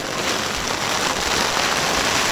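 Heavy rain hammers steadily on a tent during a cold mountain expedition on Ararat, a dense, loud, continuous patter with no pauses and no voices.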